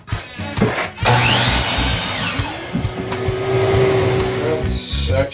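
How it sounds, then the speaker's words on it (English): A piece of wood being sawn to cut its end off, steady rasping strokes running almost continuously for several seconds, loud and close, with brief pauses at the start and end. "has to have the end cut off."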